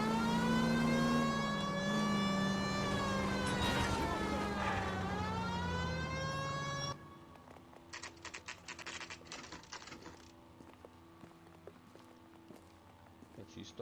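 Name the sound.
police siren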